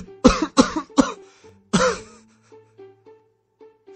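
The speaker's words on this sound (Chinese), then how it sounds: "方平捂着胸口剧烈咳嗽起来" A voice actor in a Chinese audio novel coughs violently, four harsh close-up hacks in quick succession, with a softer throat sound between them, before fading into strained breathing.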